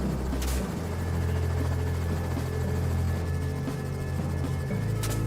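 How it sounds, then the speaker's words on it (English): A helicopter used in wild boar hunting drones loudly and steadily nearby, a deep pulsing rotor hum with a whining turbine tone throughout. "They call helicopters loud and slow"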